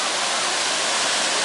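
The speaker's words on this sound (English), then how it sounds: "I think that's it for waterfalls today." Jeongbang Falls on Jeju plunges in a steady, dense roar of falling water, a loud and even broadband rush that holds without a break from start to finish.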